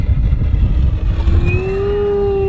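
A high-pitched jet engine whine rises steadily in pitch over a rumbling background as an E-Flite V1200 RC jet plane spools up and takes off nearby.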